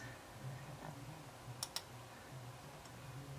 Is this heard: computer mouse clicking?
yes